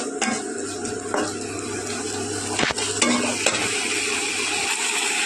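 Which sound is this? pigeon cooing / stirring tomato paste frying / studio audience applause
stirring tomato paste frying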